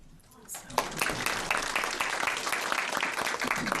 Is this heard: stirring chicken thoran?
no